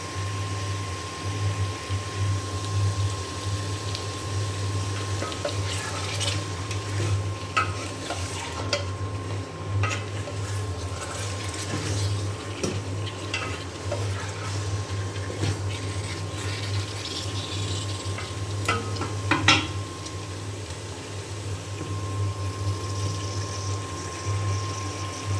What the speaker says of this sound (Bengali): এখন এই পেঁয়াজের সঙ্গে গোশটা আমি কিছুক্ষণ একটু ভেজে নেব।